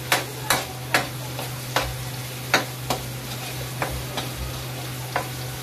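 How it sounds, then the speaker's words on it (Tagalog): Onion and garlic sauté in a pan, a soft steady sizzle with repeated sharp taps of a utensil against the pan at an uneven rhythm, close with no talking. "Igisa ko muna yung sibuyas saka yung bawang."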